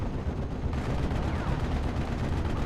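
Rapid aircraft cannon fire from four 20mm guns in a video game, a dense rattling burst of rounds over a rumbling low background, loud and continuous without speech.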